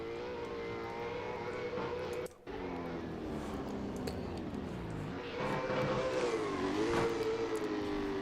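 V8 Supercars in a racing video game at Adelaide roar through celebratory burnouts, engines revving and wavering continuously at moderate volume, with a brief cut partway through.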